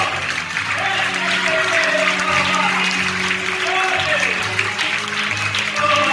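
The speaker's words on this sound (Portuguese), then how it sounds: "Você pode aplaudir o Senhor" Congregation applauding during an anniversary church service: a continuous, fairly loud wash of clapping with voices and tonal sound, likely music, running underneath throughout.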